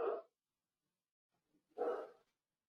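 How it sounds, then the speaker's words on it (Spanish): A pet dog barks twice in a home, two short loud barks about two seconds apart with silence between them and no talking. "Si escucháis por ahí un perro ladrando, es mi perra"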